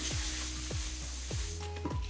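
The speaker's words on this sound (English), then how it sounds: "letting some air out just a tiny bit" Air hissing out of a partly inflated balloon, a steady airy rush with repeated squeaky downward chirps and a rubbery squeal near the end, heard close.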